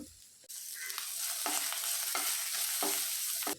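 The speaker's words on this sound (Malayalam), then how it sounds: "ഇനി ഇതിലേക്ക് നൂറ് ഗ്രാം ചെറിയ ഉള്ളി ചെറിയ കഷ്ണങ്ങളാക്കിയത് ഇട്ട് കൊടുക്കുക ശേഷം ഇതോടൊപ്പം കാൽ ടീസ്പൂൺ ഉപ്പും കുറച്ച് കറിവേപ്പിലയും കൂടി ഇട്ട് നമുക്കിതൊന്ന് വഴറ്റി തുടങ്ങാം" Chopped small onions, salt and curry leaves sizzle steadily in hot oil, with repeated scraping stirs breaking through the frying hiss, close and alone.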